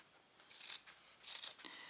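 Scissors trimming excess fabric at the corners of a sewn picnic blanket tote, two or three quick crisp snips, close and quiet against a silent room.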